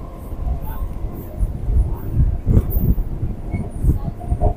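Goghat local passenger train (37375 UP) running along a rail line between Haripal and Goghat, heard as a steady loud rumble of wheels and carriage noise with rhythmic clatter throughout.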